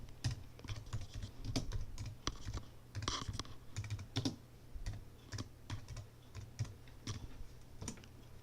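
A command being typed on a Mac computer keyboard, with quick irregular key clicks and a few louder taps, close and fairly quiet, alone over a low steady hum.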